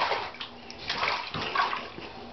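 Water sloshing and splashing in a filled bathtub as a child plays, soft continuous swishes with a few louder surges, close by and with no talk.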